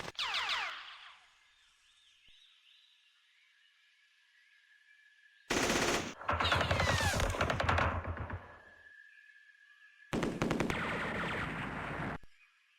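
Gunfire from a construction platoon in the Campaign Series Vietnam war game, three loud bursts of rapid shots separated by quiet gaps, the middle burst longest, with a faint tone lingering between them.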